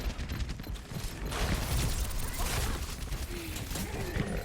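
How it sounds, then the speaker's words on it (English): Weapon fire aimed at a stationary target in the video game Overwatch, a steady run of rapid muffled shots over a dense game-sound bed, with a speaking voice over it. "I am literally shooting at a stationary target"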